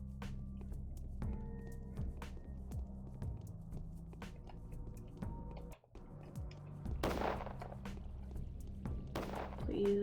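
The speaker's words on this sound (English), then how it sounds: "The constant sound of gunshots is getting a little old." Gunfire in the video game Pathologic, several sharp reports scattered through a steady low droning game soundscape, with a louder burst of noisy blasts near the end; no talk.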